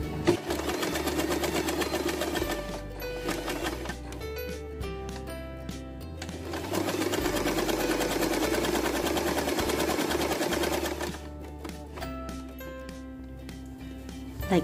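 A sewing machine stitches a bow headband in long running bursts with a steady rhythmic drone, pausing briefly around the middle and stopping near the end, with some clicking between runs.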